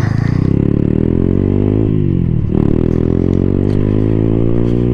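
A 2024 Freedom Fighter 200 EFI motorcycle ridden by a 256 lb rider, its engine droning loud and close with a steady harmonic rumble, briefly dipping mid-clip before settling back as the bike pulls away in first gear.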